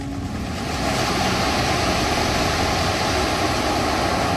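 Sea waves at the shore by the Jagannath temple make a steady, loud wash of surf, constant through the whole stretch with wind rumble and no voices.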